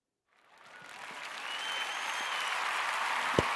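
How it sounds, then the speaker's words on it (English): Applause swells in from silence and holds steady as a broad, continuous wash of clapping, with one sharp click near the end. "Let me give her a clap first."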